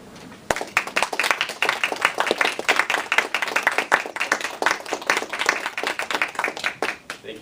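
Sustained applause from a meeting audience after a humorous speech at a speaking club, dense steady clapping from many hands lasting several seconds at moderate loudness with no talk over it.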